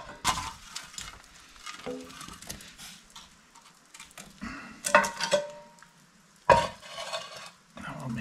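Campfire coals being dragged out and scraped into place for baking bread outdoors, with soft scrapes and a few sharp metallic clinks and knocks, close and fairly quiet.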